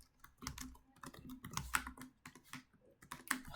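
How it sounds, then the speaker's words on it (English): Typing on a new laptop keyboard during a computer tycoon game session, with fairly steady, close clicking key taps and little pauses between bursts, and no talking. "I'm still getting used to my new laptop's keyboard, so I'm not typing as fast as I usually would be"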